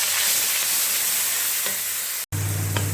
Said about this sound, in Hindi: ये देखिए हमारा मसाला कितनी अच्छी तरह से भून गया है